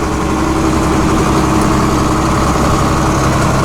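Dirt pan scraper engine running in a field, a loud, steady, close diesel drone that holds unchanged throughout, with no talk.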